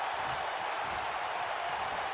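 Crowd at a live pro wrestling show cheering and applauding as a wrestler plays to them, a steady, dense wash of noise with no single voice standing out.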